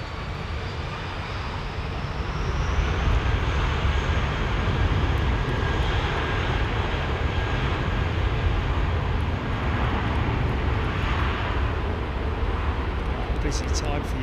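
An airliner at London Heathrow Airport gives a loud, steady jet engine roar that swells slightly and holds throughout, with a voice talking over it.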